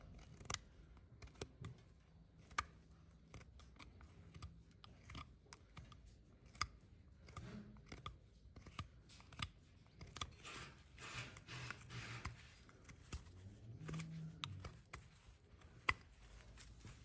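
A horse hoof being trimmed, with quick, irregular snips, clicks and scraping crunches at low level, sped up so the cuts come in rapid clusters against a quiet background.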